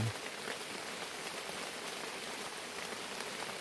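Steady rain falls continuously, a dense even hiss of drops with no voices.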